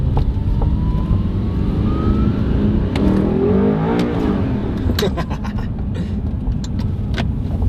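An Audi R8 drives along, its engine noise a steady, loud, close drone under road and wind rush. The engine note rises briefly in the middle, with faint sounds from inside the car on top.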